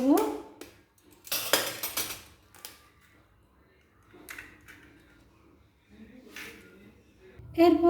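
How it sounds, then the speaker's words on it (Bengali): An egg cracked into a bowl of naan dough ingredients with salt and milk-soaked yeast: scattered knocks, a few sharp cracking clatters and bowl clinks with quiet gaps between them. "এরপর এই ডিমটা ফাটিয়ে দিয়ে দেব।"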